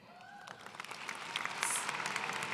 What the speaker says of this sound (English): So let's have a round of applause for these outstanding students.